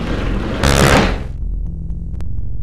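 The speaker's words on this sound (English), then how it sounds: "The doors slide open smoothly." Sliding doors in a video game whoosh open in one smooth, loud burst lasting about a second, followed by quieter low ambient hum and a short click.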